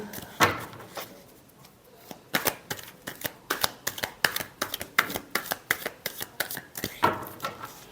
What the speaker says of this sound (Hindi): लास्ट शफल 15 से 21 जनवरी के लिए